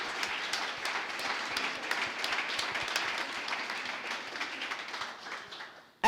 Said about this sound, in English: a big round of applause for all of the artists that have been involved in making today possible